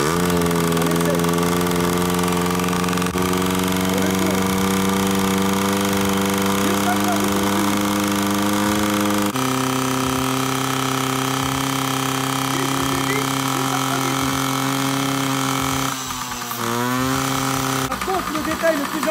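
A Yamaha PW 50 motorcycle engine idles too high during carburetor adjustment, giving a steady buzzing drone with a slight pitch shift midway and a brief dip near the end.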